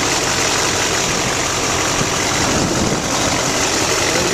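A 2007 Chevrolet Silverado 3500 4x4 with a 6.6 turbo diesel engine idles loudly and steadily up close, a constant dense rumble with no talk.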